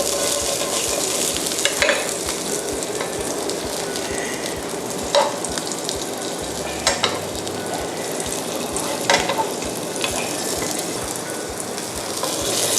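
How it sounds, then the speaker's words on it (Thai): Potatoes sautéing in hot oil in a pan, a steady loud sizzle and frying hiss running throughout with occasional scrapes and clinks of a utensil stirring and turning them, no voices. "จะเริ่มโซเต้มาแล้ว"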